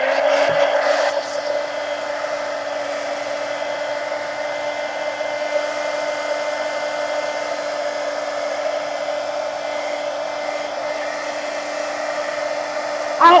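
A hair dryer blows steadily to dry paint on a coloring page, a close, continuous whirring hum that holds at an even level from start to finish.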